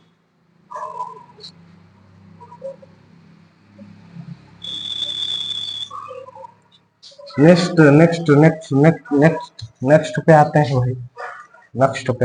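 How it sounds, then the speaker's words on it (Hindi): Dogs bark faintly in the distance, a few brief yips and barks heard early on under a low hum. A short electronic beep follows, then someone talks loudly over everything. "कुत्ते भौंक रहे हैं क्या?"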